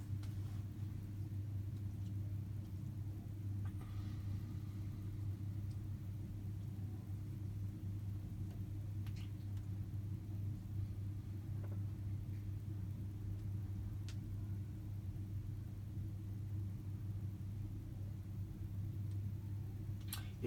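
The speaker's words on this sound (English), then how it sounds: "Right, second intermediate spin." Hotpoint WMFUG 942 washing machine on a cotton 60 cycle doing an intermediate spin, a steady low droning rumble and hum that holds evenly throughout with faint rattles, no voices.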